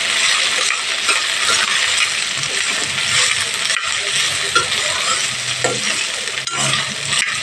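Chopped ivy gourd pieces sizzle and crackle in hot oil in a pan, a loud, steady frying hiss with occasional stirring scrapes and clinks throughout.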